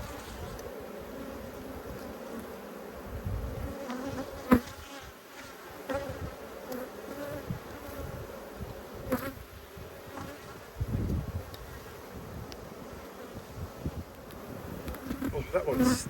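Honeybees hum steadily and densely during an inspection of a large, re-queened hive in an apiary, with a close, continuous buzz and occasional sharp knocks and handling noises from the frames.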